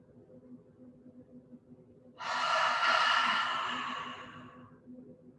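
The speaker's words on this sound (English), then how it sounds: "Sorry, you have to all listen to me breathe." A long, forceful exhale from a guided deep breathing exercise, a single breathy rush that starts abruptly, holds loud, then tapers off over a few seconds above a faint steady background hum.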